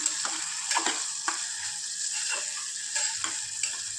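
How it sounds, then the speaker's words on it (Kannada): Onions frying in oil for a bean masala gravy give a steady, close sizzle, broken by regular scraping strokes of a stirring spoon. "ಈಗ ಈರುಳ್ಳಿ ಚೆನ್ನಾಗಿ ಬೆಂದಿದೆ ಎಣ್ಣೆಯಲ್ಲಿ"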